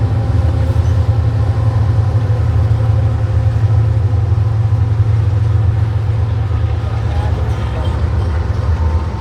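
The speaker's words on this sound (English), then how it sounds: "It's a choo-choo train." A long freight train loaded with cars and painted with graffiti rolls past on a countryside line, a steady, loud low rumble and drone that holds evenly throughout without any clear break.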